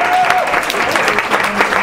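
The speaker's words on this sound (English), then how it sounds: "a round of applause for Carolyn." Brief burst of clapping from guests at a hosted gathering, loud and close, with a voice speaking over part of it.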